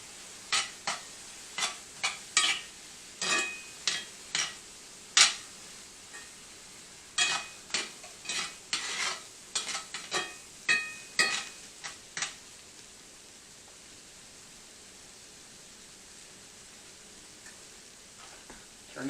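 Onions and celery sauté in a pot for a sauce piquant, with a run of close stirring scrapes and brief sizzles for about twelve seconds, then a quieter low hiss.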